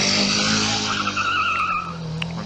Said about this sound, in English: Oh, that's a cracking engine note.